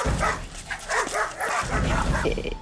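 A dog barks and yips excitedly at the sight of another dog, loud, near and repeated in a rapid, agitated run of barks with whimpering yips mixed in.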